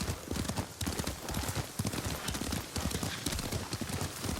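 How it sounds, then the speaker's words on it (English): Galloping horse hooves in the Ghost of Tsushima video game, a steady rapid clip-clop of a ridden horse, close and loud, with a brief whinny and faint voices in the background. "Lord Sakai taught me to ride a horse."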